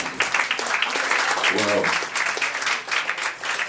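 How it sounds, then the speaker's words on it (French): Audience applause at a French-language anniversary evening of readings, dense clapping throughout with a voice briefly exclaiming over it midway. "On applaudit encore une fois, mesdames et messieurs,"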